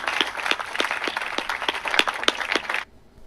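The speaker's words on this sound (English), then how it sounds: "And the restaurant erupted in a small applause." Small restaurant audience applauding, a short burst of scattered claps from a modest crowd that carries on steadily for almost three seconds before cutting off abruptly into near silence.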